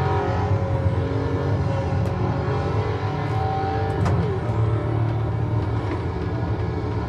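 From inside a moving car comes a loud, steady engine drone with rising revs as it accelerates, plus constant road rumble and a few light knocks.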